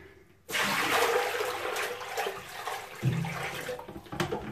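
Tap water runs steadily and loudly into a sink or basin as a hand-washed shirt is rinsed clean, the flow splashing and shifting in tone partway through, with no voices.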